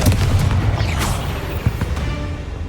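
A Confringo blast spell explodes in the Hogwarts Legacy video game, a loud dense booming burst with a rushing whoosh, followed by rumbling debris and smaller pops, with no talking.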